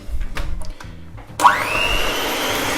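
An electric mixer kicks on partway through, beating eggs and caster sugar, rising into a steady high whine with a churning rattle, close and loud after a brief quiet stretch of faint handling noise.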